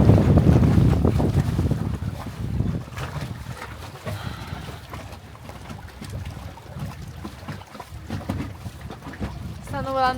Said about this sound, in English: Too much wind for our solar panel.